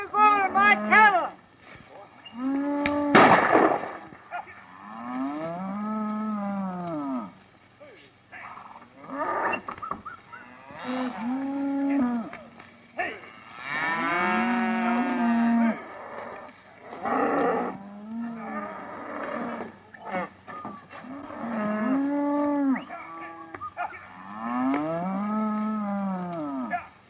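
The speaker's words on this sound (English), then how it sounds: "Where are you going with my cattle?" Cattle being herded in an old western setting, with repeated loud, drawn-out moos and bellows from several animals, one after another with short gaps, close by and filling the scene.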